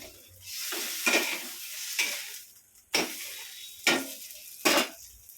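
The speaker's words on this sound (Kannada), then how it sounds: "ಮತ್ತೆ ಫ್ರೈ ಮಾಡಿ ತುಪ್ಪ ಪಾಡ್ದು" A chapati egg frankie fries in ghee on a pan, a steady soft sizzle punctuated by several scraping spatula strokes against the pan's surface.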